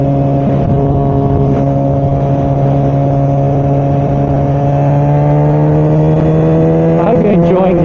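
A modded Kawasaki ZX4R motorcycle engine hums steadily at high revs from the rider's helmet position, loud and constant under wind noise, then pitches up briefly near the end.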